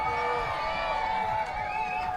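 Crowd cheering and whooping at a strongman competition, a dense continuous roar of many voices at moderate distance, with no single voice standing out.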